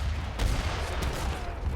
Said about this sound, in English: Those mortars are actually taking their time sieging the fort down.